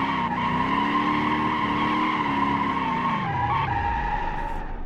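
Toyota Supra drifting in the BeamNG driving game, tires skidding with a loud sustained squeal over a steady engine drone that drops in pitch near the end.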